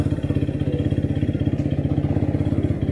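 A motorcycle engine runs steadily nearby, with an even, rapid low putter and a faint mechanical clatter throughout and no voices.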